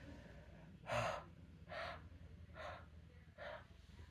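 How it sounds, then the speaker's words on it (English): Four short, breathy huffs of warm breath onto a rubber stamp to moisten it, evenly spaced about a second apart, close and fairly soft. "you got to put your kind of steamy breath on it to get it kind of wet again"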